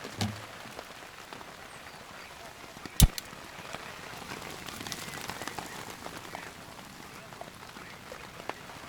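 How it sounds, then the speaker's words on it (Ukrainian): Light rain patters steadily on a surface, a soft continuous hiss of drops with one sharp knock partway through, during a bicycle trip in Ukraine. "Дощик накрапає, а ми їдемо."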